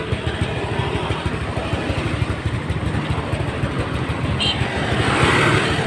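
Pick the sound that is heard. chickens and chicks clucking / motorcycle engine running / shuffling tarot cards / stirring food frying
motorcycle engine running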